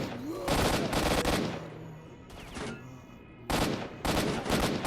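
Gunfire in STALKER: Shadow of Chernobyl, with loud bursts of automatic shots in three separate clusters, sharp and close, broken by brief quieter gaps.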